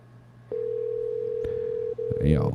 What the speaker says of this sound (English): Come on, Greg, answer the phone